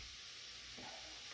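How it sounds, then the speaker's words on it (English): Sauce for a Korean fish cake side dish bubbling in a pan over medium heat, a steady, dense sizzle and simmer with no talk. "There, it's now boiling."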